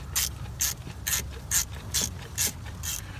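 A ratchet wrench loosening a hard-to-reach bolt on the engine of a 2006 Chrysler Town and Country minivan, seven evenly spaced clicking strokes over a low background hum.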